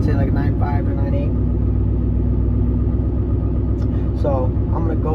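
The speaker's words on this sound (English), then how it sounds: "Truck's running, you got it idling." A truck engine idles steadily as a low, continuous rumble throughout, with someone talking over it for much of the time.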